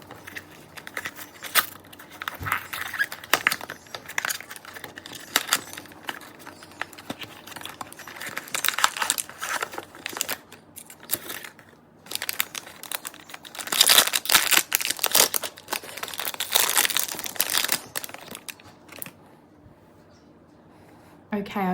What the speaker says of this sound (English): Okay, I've just unwrapped the little light.